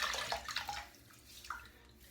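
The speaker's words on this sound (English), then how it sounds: "I'm just going to wet my head a bit." Water splashes and pours as a man wets his head in the shower before a shave, with a few quick splashing bursts that fade into a quieter trickle.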